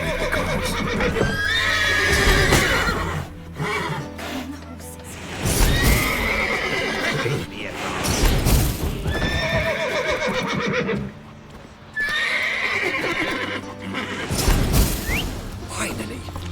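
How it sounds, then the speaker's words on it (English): Horses in The Witcher 3 video game neigh and whinny repeatedly, loud and close, with hoof clops and thuds between the calls; a person talks over them. "Gotta calm all the horses before you leave the cars."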